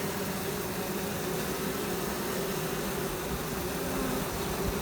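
Honey bees fanning at the entrance of a weak mating nuc outdoors, a steady close insect hum mixed with broadband rustle, continuous and alone.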